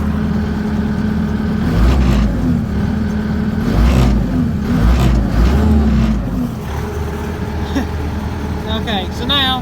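A Bobcat T590 compact track loader's diesel engine runs steadily at close range, with a deep low rumble that swells briefly a few times, mixed with mechanical clatter and someone talking over it.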